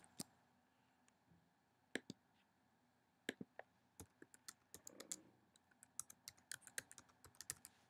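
Login details are typed on a computer keyboard, the keystrokes coming as scattered, crisp clicks that start sparse and pick up into quicker bursts, close and fairly quiet with no talking.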